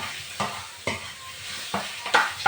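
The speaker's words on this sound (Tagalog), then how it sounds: "Fry lang siya ng onion." Onion pieces frying in olive oil in a pan, giving a steady sizzle with several sharp bursts of hiss and stirring scrapes as the pan is worked. No one speaks.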